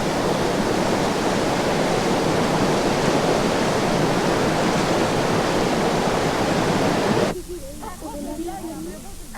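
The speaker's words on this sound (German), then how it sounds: "An Lianen hängend ist das Bad im Fluss für Silvester, Bartolome und Letizia eine Er" A river's water rushes loudly and steadily, with a dense roar like a current or small falls, for about seven seconds. Then it cuts abruptly to a much quieter background with faint scattered sounds.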